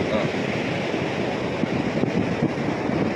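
Sea waves washing onto a beach with a constant rushing surge and some wind noise, no clear speech.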